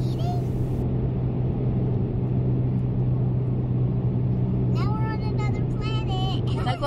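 A car rolls along with a steady low engine rumble while a learner driver works the clutch and gas, the drone continuous throughout, with voices chatting briefly near the end.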